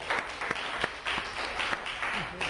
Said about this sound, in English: And a round of applause, if we could.